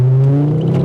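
A Ford Focus ST 225 engine revs up close in a short, loud burst, its rising drone carrying a whirring edge.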